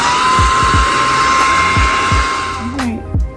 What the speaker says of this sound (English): Let's go back in with the blow dryer one more time.